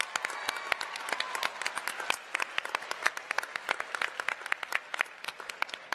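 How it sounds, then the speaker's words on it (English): A school assembly crowd at Lake Braddock Secondary School bursts into steady, dense applause, many hands clapping at once in a sustained, fairly loud wash with no voices over it. "Give all of yourselves a round of applause."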